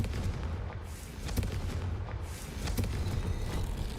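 Confringo blasting spell in the Hogwarts Legacy video game, a steady rumbling barrage of muffled booms and cracks repeating throughout, moderately loud within dense game noise.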